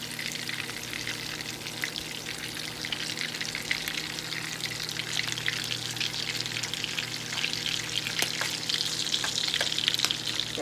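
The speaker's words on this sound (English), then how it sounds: "the bacon is cooking" Bacon fries in a pan for a breakfast, a close, continuous crackling sizzle with scattered sharp pops and no talk.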